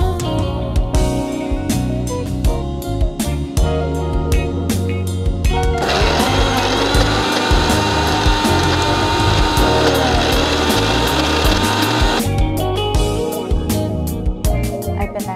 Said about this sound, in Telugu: గ్రైండ్ చేద్దాం.